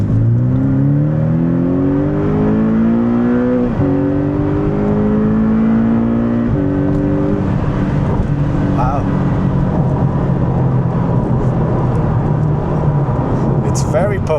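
A Porsche 718 Boxster GTS accelerating hard in regular mode, its engine climbing through several gear pulls with steady rises in pitch and brief drops at each shift, loud and close inside the cabin.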